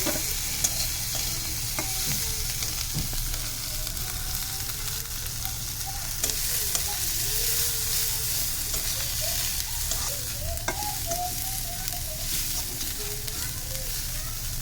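Onions and green chilies fry in a pan for vegetable noodles, giving a steady, close sizzle with occasional stirring scrapes that runs the whole time without talk.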